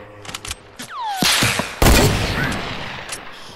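Gunfire in the video game Fortnite, a quick volley of sharp shots followed by a heavy blast and a rumbling, crackling tail, loud and close, with faint game effects around it.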